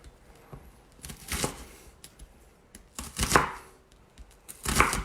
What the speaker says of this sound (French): Et on va venir couper donc des tout petits morceaux